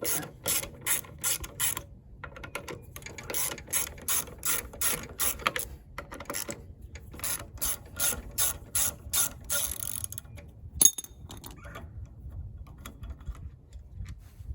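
A 5/16 ratchet wrench turning carburetor bolts on a Briggs and Stratton Quantum engine, rapid close clicking in repeated bursts with short pauses, alone and fairly quiet.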